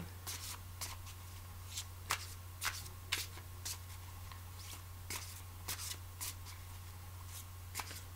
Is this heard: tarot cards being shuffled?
yes